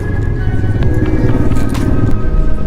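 A vehicle drives and overtakes on a mountain road in Spiti Valley. It is a loud, close, steady engine and road rumble, heavy in the low end, with wind buffeting and brief rattles.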